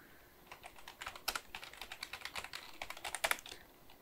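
A LinkedIn search being typed on a computer keyboard, with quick, quiet keystrokes clicking in an uneven run and a few sharper taps near the end.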